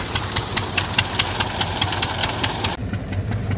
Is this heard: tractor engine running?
yes